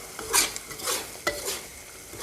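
Curry paste being stir-fried in a pot for a pork belly curry with water spinach, giving a soft scraping stir and a light sizzle, with a few louder scrapes in an uneven rhythm, close up and with no talking.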